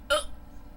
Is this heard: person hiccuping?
yes